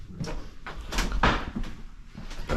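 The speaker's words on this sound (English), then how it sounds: "Secret door." A secret door in a 01 Tuttio Soleil car opens with a few close thumps and scraping clicks, alone without talk.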